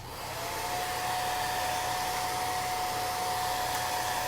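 A hair dryer blows continuously to dry chalk paste on a stencilled border, its steady whooshing roar close and loud from start to finish, with no talking.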